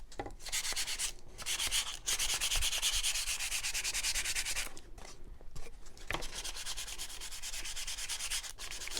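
Sandpaper cut into small pieces rubs by hand over a wooden nativity piece being distressed, making a continuous close gritty scratching in long strokes with a few short pauses.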